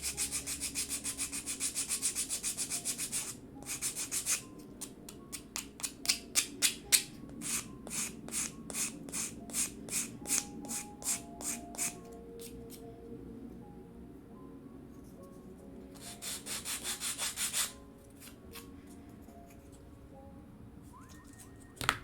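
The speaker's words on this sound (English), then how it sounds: "always with the grain working towards finer sandpaper" Sandpaper rubbing along the grain of a wooden miniature dresser, a steady scratchy rasp broken into quick repeated strokes with short pauses, close and moderately loud with no talking.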